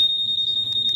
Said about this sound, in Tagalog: O yan, nag-a-alarm na siya.